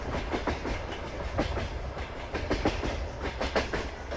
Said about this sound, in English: That is the longest train I've ever seen.